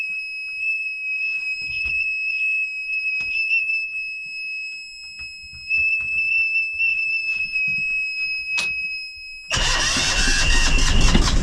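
A steady high-pitched electronic tone beeps through quiet shuffling, then the engine of a First 27 sailboat cranks and roars to life loudly near the end, in a small harbour at Berre.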